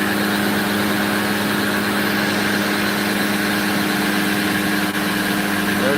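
A 2,000 horsepower engine idling, a loud continuous rumbling hum with steady low vibration and no speech.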